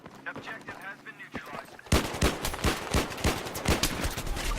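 Pistol fire in the multiplayer shooter Battlefield 3: a quiet stretch, then a rapid volley of sharp, loud shots from about two seconds on, repeated in quick succession.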